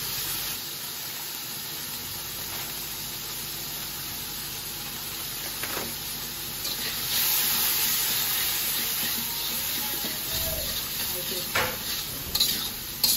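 Spice paste with chilli and turmeric powder and a splash of water is stirred and sautéed in a pan, a soft continuous sizzle with intermittent scraping and clinks that grow a little louder toward the end; no speech.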